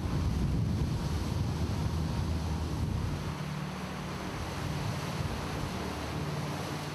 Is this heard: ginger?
no